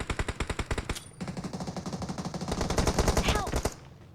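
Rapid automatic gunfire in the video game PUBG Mobile, a fast, even rattle of shots that runs almost without pause, moderately loud and heard alone.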